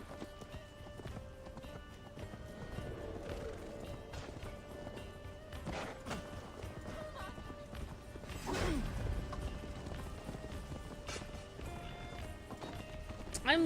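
Hooves clatter in a fast, even galloping rhythm from a horse in Assassin's Creed Valhalla on PS5, soft and steady against in-game ambience with no one speaking.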